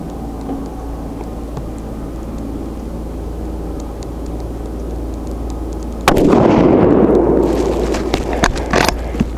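A TC Compass rifle firing Sierra Palma 155g bullets lets off a sharp, loud shot partway through with a broad rolling echo, and more bursts crack near the end over a steady low background hum.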